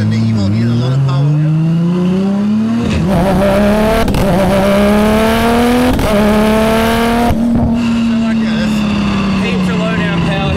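Tuned Nissan GT-R race car drives with a loud, sustained engine drone whose pitch climbs steadily through the gears, with brief shift breaks and a slow steady pull at the end, while someone talks over it throughout.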